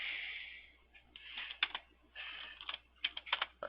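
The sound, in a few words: typing on a computer keyboard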